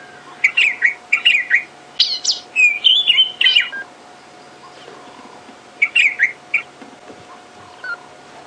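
A robin sings close by in clear, rising and falling whistled phrases, a quick burst of song, a pause, then another short phrase, at Djuma Game Reserve.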